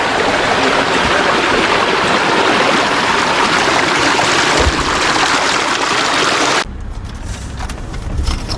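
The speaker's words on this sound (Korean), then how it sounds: "우측에 작은 계곡물이 흐르는데 아주 맑은 계곡물이 흐르네요." A small, clear mountain valley stream flows in a remote hill hamlet in Jaesan-myeon, Bonghwa County. A steady, close rushing wash of water fills most of the clip, then drops abruptly to a quieter, duller trickle near the end.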